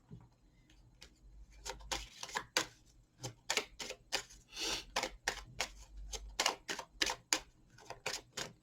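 Deck of oracle cards shuffled and cut by hand, a run of crisp close riffling snaps and slaps in irregular bursts, with no talking.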